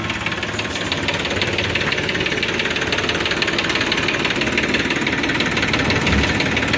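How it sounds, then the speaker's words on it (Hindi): A Simpson diesel engine, made in India, runs in a 2016 Massey Ferguson 9000 50 hp tractor, idling close up with a steady, rough, knocking chug that stays even and loud throughout. "Simpson engine, made in India."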